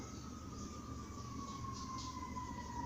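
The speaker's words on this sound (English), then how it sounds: "There's a siren in the background" A faint, distant siren wails steadily over low background rumble, drawn-out and continuous without any talking.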